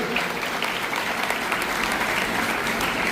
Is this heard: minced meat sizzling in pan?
no